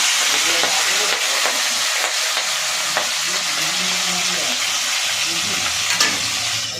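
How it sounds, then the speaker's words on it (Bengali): Nigella seeds sputter in hot mustard oil, a loud, dense, hissing sizzle that fills the whole stretch up close, with a few small crackles and a faint murmur of voice partway through. "প্রথমে আমি এই যে কালো জিরে একটু ফোড়ন দিলাম, দিয়ে দেবো আস্তে আস্তে।"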